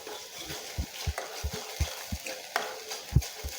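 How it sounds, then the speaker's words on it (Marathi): A spoon stirs masala with onion-garlic spice, Kashmiri chilli powder and turmeric in a cooking pot, producing a regular series of soft scraping knocks over a quiet low sizzle, close and fairly faint. "मसाला चांगला हलवून घ्यायचा"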